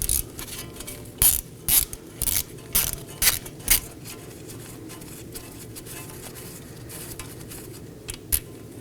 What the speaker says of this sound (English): I'll be using a T30 bit on a ratchet to remove it.